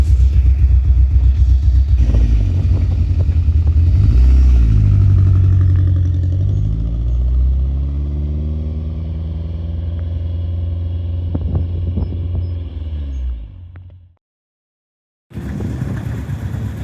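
Stock turbocharged engine of a Mitsubishi Eclipse GSX Spyder running, a loud close rumble whose pitch swells and falls as it revs, then cutting off abruptly into silence before restarting near the end.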